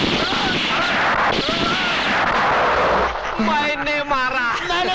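Gunfire in a Hindi police comedy film, heard as a dense, loud, continuous barrage of shots for about three seconds, followed by voices shouting over lingering noise and wavering tones.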